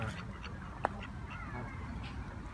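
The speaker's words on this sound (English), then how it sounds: "it's not only the geese, we have some ducks and other birds as well, different types of ducks." Scattered quacks and honks from ducks and geese near Rickmansworth, fairly faint and at a distance, over a low background murmur.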